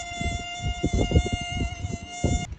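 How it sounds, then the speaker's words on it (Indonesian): Mosquitoes give a thin, steady high-pitched whine that holds throughout, heard under continuous talk before stopping abruptly near the end. "Lalu beberapa hari kemudian muncul banyak nyamuk."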